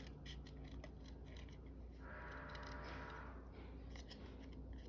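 Scissors cut fine detail out of a paper card for a 3D postcard picture, a quiet run of close, crisp snips with a faint scraping stretch midway and no voices.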